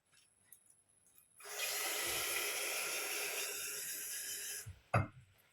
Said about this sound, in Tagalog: lagyan pala muna natin ng water before anything else